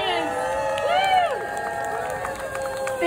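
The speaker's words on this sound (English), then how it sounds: "we're going to cheer for citizen science and we're going to do our 1 million cheer" A crowd at a citizen science event shouts a short, loud cheer together, with voices rising and falling over a few seconds.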